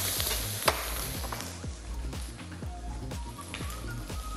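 Onions sizzle in a hot pan while a utensil stirs and scrapes, giving repeated soft knocks and scrapes over a steady frying hiss, close up with no voices.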